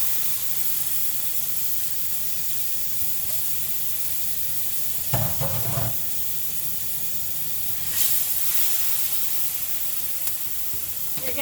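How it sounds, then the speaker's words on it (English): Kimchi sizzles steadily in olive or grapeseed oil in a hot pan, a continuous close hiss with a few brief scraping stirs. "You're going to stir fry your kimchi until it's nice and soft."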